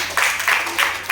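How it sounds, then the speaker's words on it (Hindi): Students in a classroom clap together in four quick, even bursts, close and loud, during a geometry lesson on angles. "ताली बजाओ।"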